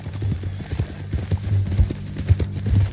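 In Red Dead Redemption 2, a ridden horse's hooves clip-clop in an even, brisk rhythm, close and fairly loud over a low musical bed.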